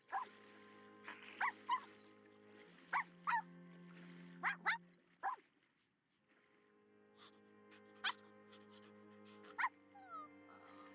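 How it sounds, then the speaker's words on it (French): Dogs in The Sims 4 game barking and yipping in short bursts, several clustered barks scattered over a quiet background hum with a brief silent gap midway. "Alors, oui, il y a des chiens."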